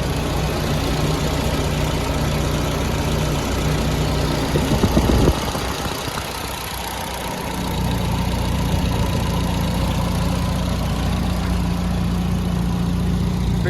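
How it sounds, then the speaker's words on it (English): A 1974 Porsche 911 Targa with a 1500cc engine idling steadily beside its whirring cooling fan, a close, even mechanical hum with a brief dip in the middle before the idle settles back in. "listen to that fan, and listen to it idle."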